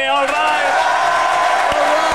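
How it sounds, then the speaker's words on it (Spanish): Studio audience at a Spanish comedy show cheers and whoops loudly while a voice shouts over the crowd noise, a brief burst of enthusiastic reaction. "Un aplauso para Ignatius y Keke."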